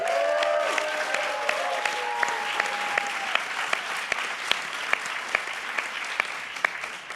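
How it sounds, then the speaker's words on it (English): A conference audience at the Volt Europa general assembly applauds a Cyprus parliament member, a dense, sustained wash of clapping from a large hall crowd with sharper individual claps popping out over the steady roar. "Alexandra, you have a lot of fans in the audience, I hear from the applause."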